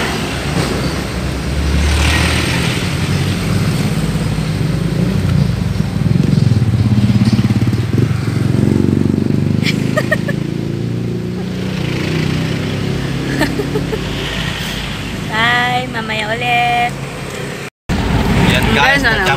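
Cars and motorcycles passing in heavy traffic on a road trip to a rural village, steady engine rumble and passing swells up close, with people talking over the noise and a brief dropout near the end.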